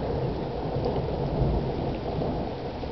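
Thunder rumbles from a lightning storm directly overhead in August, a low continuous roll that swells slightly midway, with steady rain hissing underneath.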